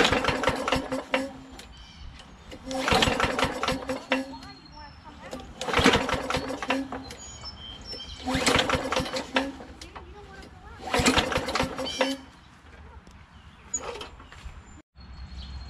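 A Craftsman 21-inch push lawn mower with a 5 HP Tecumseh engine is cranked on its recoil starter, turning over in five separate rasping pulls without catching, with brief talk between them.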